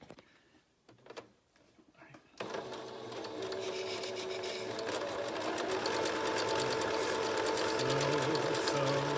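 A sewing machine back stitching a fabric face mask starts after a couple of seconds of quiet handling, then runs in a continuous fast whirring chatter that holds steady to the end.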